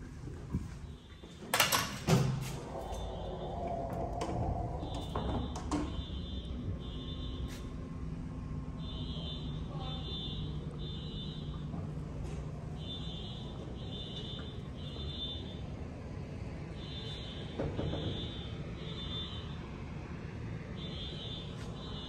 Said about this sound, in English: the fire alarm is going off or something